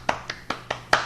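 Hand clapping, five evenly spaced sharp claps in about a second, close and fairly quiet, with no talk over them.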